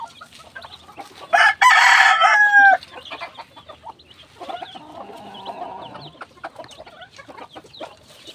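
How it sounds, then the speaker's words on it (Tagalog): Chickens and chicks in a small backyard coop, a rooster crowing loudly once near the start, then soft clucking and scattered peeping continuing quietly throughout. "Ayan po mga kaibigan, ang ating mga sisiw."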